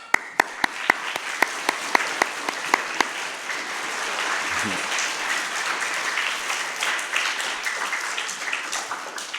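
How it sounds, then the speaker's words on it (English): Applause at a K-5 school awards ceremony, opening with a few sharp, separate claps that swell into a steady round of clapping from the audience, moderately loud and continuous. "I think they all deserve a big round of applause for that"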